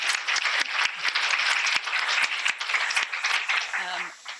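An audience at a talk on abortion and democracy gives another round of applause, a dense, sustained clatter of many hands with a few louder claps, fading near the end as voices emerge.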